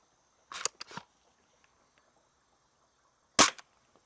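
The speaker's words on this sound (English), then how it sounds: "let's go ahead and put 10 shots over the chronograph" A Worker Harrier foam dart blaster fires over a chronograph, giving sharp, close snapping shots: a quick cluster of three near the start, then a single loud shot later against a quiet background.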